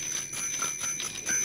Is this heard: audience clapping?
no